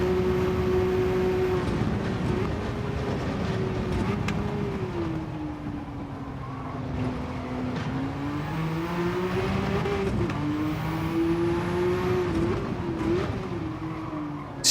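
Race car engine in a Le Mans endurance racing game on an out lap, a steady sustained drone with pitch rising and falling through gear changes and corners, loud and continuous throughout with no talk.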